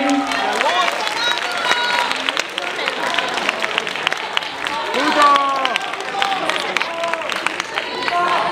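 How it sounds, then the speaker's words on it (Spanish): An audience at a cosplay contest awards ceremony in Guadalajara applauds and cheers, with loud clapping mixed with shouts and crowd voices that swell and ebb over several seconds. "De nuevo, un fuerte aplauso para todos."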